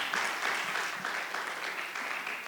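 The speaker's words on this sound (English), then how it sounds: "A big round of applause." At a Bengaluru retail fireside chat, the audience gives a quiet, fairly distant round of clapping for Snitch founder and CEO Siddharth Dungarwal, a continuous, even patter with no voices over it.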